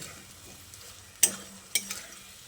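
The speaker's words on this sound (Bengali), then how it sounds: "তারপর ভাজা পটলটা দিয়ে মশলার সঙ্গে আবারও খুব ভালো করে মিশিয়ে নিচ্ছি।" Fried pointed gourd being stirred with spices in a pan for a vegetarian yogurt curry, a faint sizzle broken by two sharp spatula clinks against the pan.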